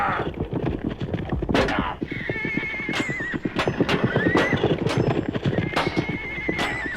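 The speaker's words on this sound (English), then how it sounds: "Sir Gawain is about to fall from his horse." Horses in a 1968 audio drama: steady clip-clopping hooves with loud, shrill neighs and whinnies rising above the galloping, close and busy throughout.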